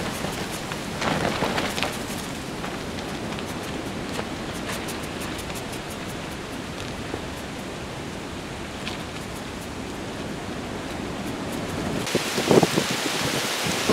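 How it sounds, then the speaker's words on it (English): Heavy rainstorm pelting a wild hammock camp, a dense, constant hiss of rain on surfaces with occasional louder gusts and drips close by. "One hell of a rainstorm just come in."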